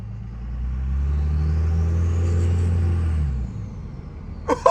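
Diesel truck engine fitted with a Fleece turbo and 5-inch MBRP exhaust, nearby, producing a loud, steady low rumble with a rising turbo whistle over about three and a half seconds, then dropping off, with a brief sharp hiss at the end.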